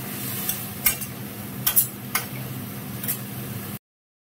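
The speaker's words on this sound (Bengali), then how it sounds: "তো যেখানে কাঁকরোল আর পেঁয়াজ আছে এটা সুন্দর করে ভেজে নেব" Pointed gourd and onion frying in a pan, a steady close sizzle with several sharp clinks and scrapes of a spatula stirring against the metal, no talking, ending abruptly.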